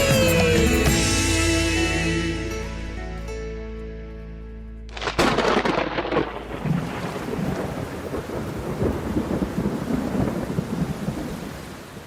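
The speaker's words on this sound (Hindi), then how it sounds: "वहीं अब इंद्र का क्रोध गरजने लगा। मेघ बरस पड़े और ब्रजभूमि पर जल प्रलय का संकट छा गया।" A thunder and rain sound effect at a Krishna Leela stage performance: music fades, then a sudden loud thunder crash breaks in, followed by a dense, steady downpour.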